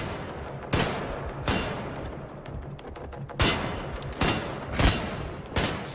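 Repeated pistol gunfire in the video game Wolfenstein The New Order, six or so loud close shots at uneven intervals over a steady background of game noise.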